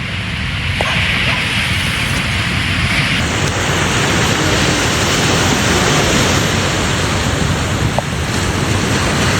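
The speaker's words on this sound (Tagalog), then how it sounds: "Dito kami sa tabing dagat." Steady roar of sea waves breaking on a beach with wind buffeting the microphone, continuous and close, with no clear speech over it.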